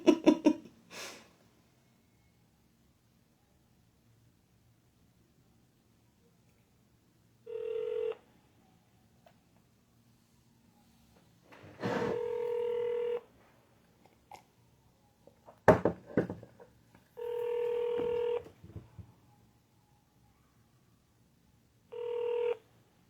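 A telephone call is placed, short dialing tones at the start, then four evenly spaced ringback tones of about a second each with long quiet gaps between them, with some faint breathing and handling noise.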